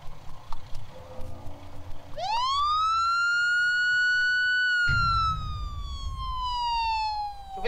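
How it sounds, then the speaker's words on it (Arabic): An ambulance siren sweeps up into a loud, close wail and then slowly glides downward in pitch. Traffic rumble sits underneath the siren. "شوف الاسعاف يا ابني."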